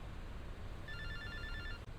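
A telephone ringing after a number is dialed on a cell phone: a faint electronic ring tone that starts partway through and lasts about a second over a low background hum, then cuts off.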